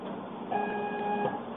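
Master Plotter FC 3600 cutting film, a short close whir from the plotter motor with a faint electronic tone over it, brief and steady.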